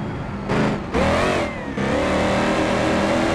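A Ford Mustang engine in BeamNG.drive revs loud and steady, briefly dipping twice as the pitch shifts, then holding a sustained high drone.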